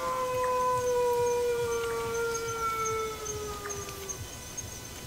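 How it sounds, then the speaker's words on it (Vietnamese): A dog howls in long, drawn-out wavering tones inside a house, the sustained cries rising and falling steadily for several seconds over a dull background hum with no talking. "Gì chó chu vậy?"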